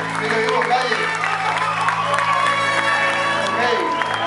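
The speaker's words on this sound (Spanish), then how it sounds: "yo quiero un fuerte aplauso para ellos" Audience at Jazz Café in San Pedro applauding and cheering the band, with steady clapping mixed with shouts and crowd chatter, loud and close throughout.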